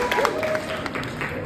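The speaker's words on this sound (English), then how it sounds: "Go ahead and give yourself a round of applause." Guests at a school gala ball applaud themselves, a short burst of crowd clapping with scattered cheers and voices mixed in.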